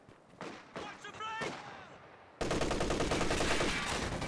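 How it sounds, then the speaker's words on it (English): Machine-gun suppression fire in Company of Heroes 2, opening with several spaced single shots and then a loud, sustained rapid burst that continues to the end. "well-timed suppression burst there"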